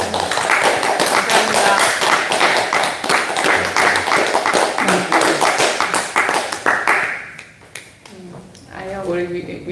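An audience at Pranic Fest Korea claps for the speaker, a dense, loud burst of hand clapping that runs for several seconds before fading, with a voice speaking as it dies away.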